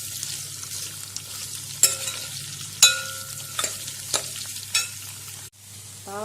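Bitter gourd sizzles steadily in a pan while a utensil stirs and scrapes it in several short strokes, close by, with no voices.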